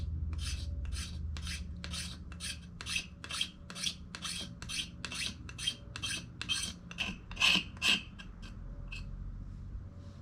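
A Kuto Misa knife carves thin shavings from wood in a quick, even run of about twenty close, raspy scraping strokes, with no voices.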